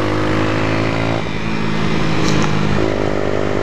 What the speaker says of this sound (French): J'aime vraiment beaucoup beaucoup le bruit de cette bécane quand même.